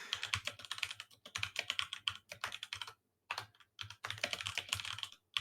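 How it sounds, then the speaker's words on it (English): Rapid, clattering keystrokes on a loud computer keyboard, close and continuous in bursts with brief pauses, no talking. "You got that loud keyboard."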